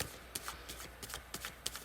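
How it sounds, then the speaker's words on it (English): A deck of tarot cards being shuffled by hand, giving a soft run of riffling bursts and sharp card snaps at an uneven rhythm, close and quiet, with no one talking. "while I am shuffling"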